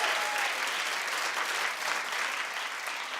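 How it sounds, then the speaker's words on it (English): Studio audience at a New York daytime talk show breaks into sustained, loud applause that fills the whole stretch, dense and steady with a slight dip near the end. "New York, clap if you remember what I'm talking about."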